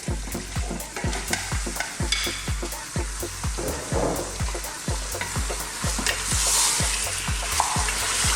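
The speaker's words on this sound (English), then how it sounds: "And now we're going to add our coated beef." Coated beef cooking in a hot pan for a beef biryani: a loud, continuous close sizzle with regular scraping stirs repeating about every half second, no talking.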